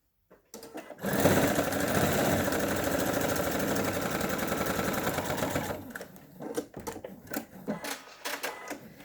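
Sewing machine stitching a seam on a fabric lacing block, starting after a brief pause and running in a steady close whir for about five seconds, then stopping, followed by soft handling clatter.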